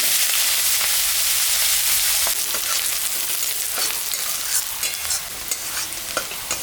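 Onion pieces fry in hot oil with a steady sizzle, broken by irregular scraping and clattering strokes of a spatula stirring the pan close by, with no talk.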